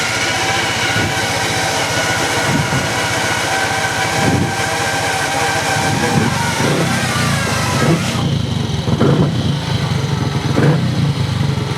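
An old Triumph Tiger Cub motorcycle engine running after two years idle, a loud, steady mid-pitched thrum close by with a few small revs toward the end.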